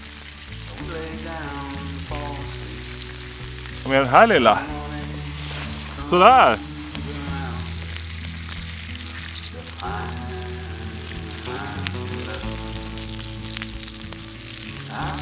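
Eggs and bacon sizzle steadily in a frying pan over a campfire, a close, continuous crackle that runs throughout while a person speaks intermittently and a couple of brief louder bursts rise above it.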